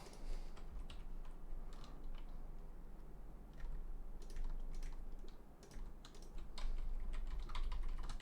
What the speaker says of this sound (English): I'm just doing this to make it easier to type these.